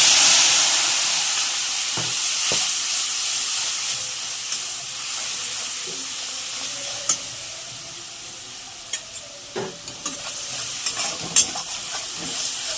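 Spice paste fries with eggplant in a pan, giving a continuous bright sizzle and hiss, broken now and then by sharp clicks and scrapes of stirring.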